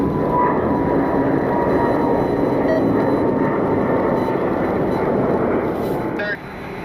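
An airliner taxiing out at Cleveland airport makes a loud, steady jet engine roar that holds evenly throughout, easing off slightly near the end.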